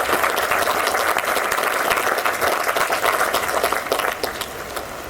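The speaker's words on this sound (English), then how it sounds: "Can we give our families and wedding party a round of applause" Wedding guests applaud the families and wedding party, steady full-room clapping close and continuous throughout, easing slightly near the end.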